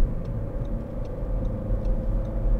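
A 2012 SEAT Ibiza 1.4 Sportrider hatchback cruising on a motorway, heard from inside as a steady low road and engine rumble with tyre roar and faint intermittent ticks, no talking.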